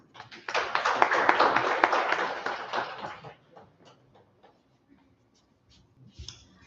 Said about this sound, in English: Another round of applause for Mr. Personaga.